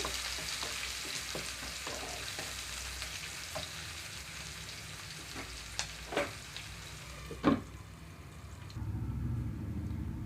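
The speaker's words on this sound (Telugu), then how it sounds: "ఉల్లిపాయలు కొంచెం చక్కగా వేగిపోయే వరకు కూడా" A steady sizzle of onions frying in a pan for an ivy gourd and chana dal curry, with a few sharp clinks and scrapes of a utensil near the end.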